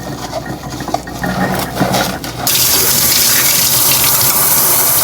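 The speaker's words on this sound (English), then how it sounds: "for the bowl and sifter, I just wash it with soap and water" Running tap water splashes into a sink while washing a matcha bowl, softer and uneven at first, then a steady loud rush of water as the flow strengthens.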